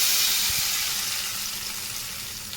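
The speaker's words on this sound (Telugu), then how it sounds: "ఇప్పుడు మనము కలిపి పెట్టుకున్న చేపలు" Fish frying in hot oil with green chilli and curry leaves for a coastal Andhra fish curry, a steady close sizzle with a few soft clinks, fading slightly toward the end, no voices.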